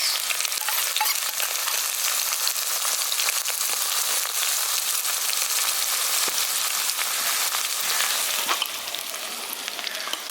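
Chana dal, urad dal, dried chili and chopped ginger fry in a pan in a village kitchen, with a steady crackling sizzle throughout and scattered pops and spits. The sound is close and continuous, with no talk.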